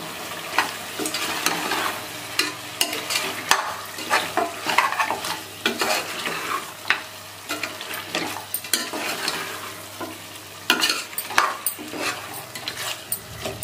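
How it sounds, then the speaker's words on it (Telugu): Cashew mutton masala curry being stirred in a pan, repeated close scraping and clinking strokes of a spoon against metal over a continuous low sizzle, no one talking. "బాగా కలపాలి"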